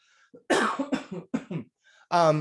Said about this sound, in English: pardon me, I have to cough.